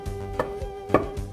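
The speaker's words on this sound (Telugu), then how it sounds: "దంచరా మచ్చా దంచు." Whole spices for chicken tandoori masala are pounded by hand outdoors in a forest, a few irregular dull thuds spaced unevenly, close and fairly quiet with no talk.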